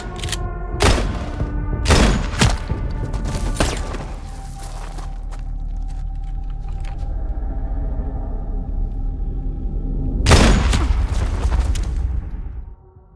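Gunfire in a battle scene from an action film about a former elite marine, with several loud broadband blasts in the opening seconds and another near the end, set over a steady low rumble.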